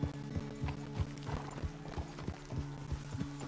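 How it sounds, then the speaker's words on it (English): Horse hooves clip-clop at a steady walking rhythm in Red Dead Redemption 2, close and evenly paced, over a low continuous background hum with no talk. "The horse can feel your fear."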